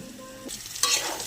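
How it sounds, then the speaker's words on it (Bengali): Potatoes fry in oil with a quiet, short sizzle and a scrape of stirring that grows a little louder partway through. "তো এই দেখো লাল লাল করে আলু ভাজা হয়ে গিয়েছে।"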